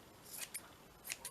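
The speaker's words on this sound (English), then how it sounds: "Let's do my scissors." Scissors cut through paper ephemera for a folder craft, making two quick pairs of crisp, close snips, faint and otherwise quiet, with no voices.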